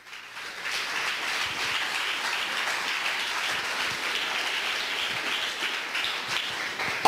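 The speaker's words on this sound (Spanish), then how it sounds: "¿Cuánto le dan un aplauso a él fuerte?" A congregation at a Spanish-language church service breaks into strong, continuous applause, a steady mass of clapping that rises quickly and holds evenly without talk.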